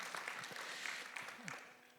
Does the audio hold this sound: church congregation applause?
yes